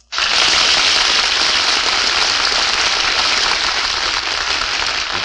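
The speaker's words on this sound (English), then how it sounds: "Hear that applause?" Loud, dense studio audience applause on a 1950 radio broadcast of Screen Director's Playhouse greeting Bob Hope and Jane Russell, bursting in abruptly and holding steady as a continuous wash of claps.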